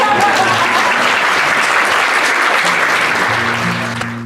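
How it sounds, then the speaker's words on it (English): A concert audience in Menomonie applauds, a full, steady burst of dense clapping that fades toward the end as a low musical tone enters. "You don't have to clap for that."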